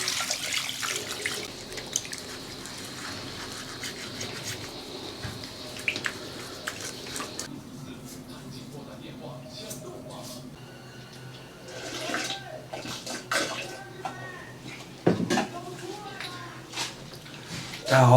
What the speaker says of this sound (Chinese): 把这个猪蹄儿撂下毛， 加水洗一下